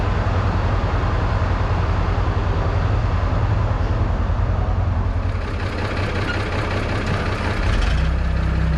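A farm tractor pulling a baler drives out, its diesel engine rumbling steadily and loud throughout with no talk.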